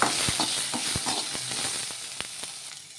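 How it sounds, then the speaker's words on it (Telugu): Tomato pieces fry in a pan while being stirred, a soft close sizzle punctuated by several sharp taps and scrapes of a spoon, fading slightly toward the end. "రెండు టమోటా ముక్కలు వేసుకొని ఒకసారి కలిపేసుకున్నాం బాగా"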